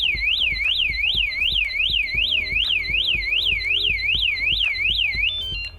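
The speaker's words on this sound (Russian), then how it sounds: "А при повторном срабатывании уже звучит сирена." Antusi A8 bicycle alarm wailing as a siren, a loud, close, rapidly repeating up-and-down electronic whoop that cycles steadily before cutting off abruptly.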